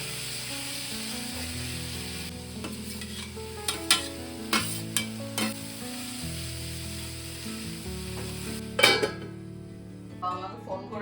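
Vegetables and chicken frying for upma in a pan, a continuous sizzle broken by several distinct spatula scrapes and clinks, with a steady hum underneath.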